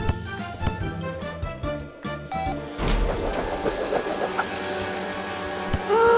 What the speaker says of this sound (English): Tilly's faster than ever with her new exhaust.